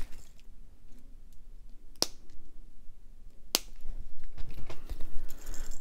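Two sharp, isolated snips of jewelry wire being cut to length with cutters, crisp close clicks against a quiet room background.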